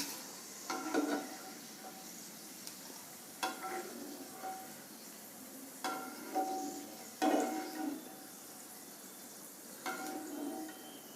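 Peanuts roasting in a pan are stirred with a utensil, producing soft repeated scraping and rattling strokes every second or two over a faint sizzle, with no voices.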